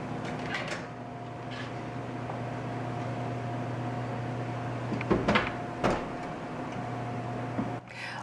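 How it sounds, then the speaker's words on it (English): An oven door at 400 degrees thuds shut as a tray of homemade chips goes in: a couple of short knocks near the end of a steady appliance hum, close by with no talk. "So these are going to go in the oven."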